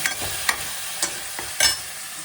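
Masala roasts in a pan with a faint sizzle, broken by several sharp scrapes and clinks of a spoon stirring at uneven intervals.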